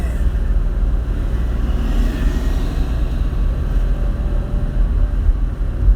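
A Porsche 964 Turbo idles or cruises steadily by a beach, its engine a continuous low rumble with a fine mechanical whir on top, fairly close and unbroken, with no talk.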